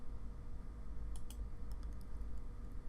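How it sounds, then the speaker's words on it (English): Keys tapped on a computer keyboard, a few soft clicks in short bursts over a steady low hum, quiet and close, no voices. "I'm going to type in here partial summary output, and this will be table 1."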